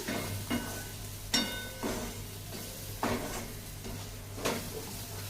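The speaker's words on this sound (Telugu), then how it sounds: "ఇప్పుడు ఒకసారి కలిపేసుకుందాం" A pan of tamarind seed curry with a pinch of garam masala is stirred over a low sizzle, giving a few distinct scraping strokes spaced about a second apart, close and fairly soft, with no talk.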